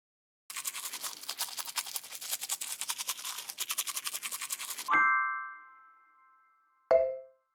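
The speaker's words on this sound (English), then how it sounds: "Round and round the brush goes." A toothbrush scrubs teeth in a Peppa Pig kids' brushing game: quick, rhythmic strokes repeat steadily for about four seconds, then a bright chime rings out and fades, followed by a shorter second chime.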